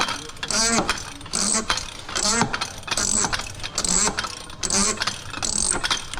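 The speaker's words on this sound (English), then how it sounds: "use a cheater bar on this one because it is hard" A ratchet fitted with a cheater bar works a hard-to-reach fastener during an oil change on a 2018 Freightliner Cascadia with a DD15 engine, giving about eight loud, close, evenly spaced bursts of metallic clicking with no talk.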